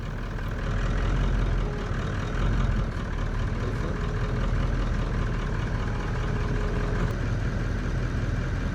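A car engine runs at a steady low idle as the vehicle is edged up to a tent entrance at a bush campsite in Mabuasehube, Botswana. The rumble is continuous and fairly close, with no voices.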